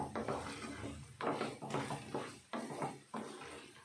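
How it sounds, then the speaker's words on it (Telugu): Chicken pieces are stirred in a pan on a low stove flame for chicken pickle, with rhythmic scraping and clattering strokes of a spoon against metal, close and clear, with no voices. "ఇప్పుడు చికెన్ పీసెస్ వేసేసుకుందాం. బాగా మిక్స్ చేసుకొని"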